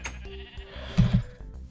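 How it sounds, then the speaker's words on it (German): Minecraft sheep giving a short double bleat around the middle, fairly close and clear over a quiet background. "Dann haben wir endlich mal Schafe bekommen."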